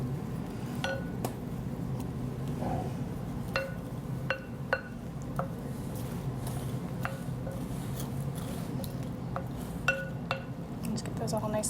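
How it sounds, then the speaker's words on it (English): A spoon stirs ingredients into a soup mixture, giving scattered light clinks and scrapes against the bowl at an irregular rhythm, faint and close over a steady background hum. "you can stir that in if you like"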